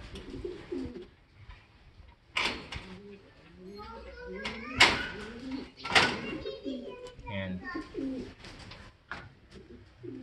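Pigeons coo in repeated soft, throaty calls at close range, with a few sharper bursts and light rustling in between, heard during handling of young birds in a loft.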